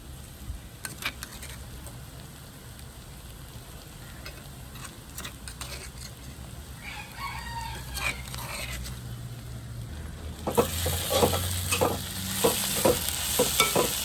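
Pounded ginger, garlic and green chilli are sautéed in a pan while cooking chicken curry; light ticking stirs give way to a louder, busier sizzle with scraping over the last few seconds.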